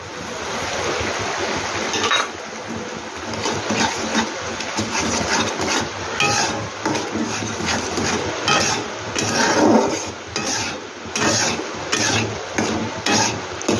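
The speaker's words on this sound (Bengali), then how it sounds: "এবার বন্ধুরা সুজিটা আমি দিয়ে দিচ্ছি।" Semolina is stirred in a pan with an even, busy sizzle and rapid scraping strokes of the spoon against the metal, close up and without speech.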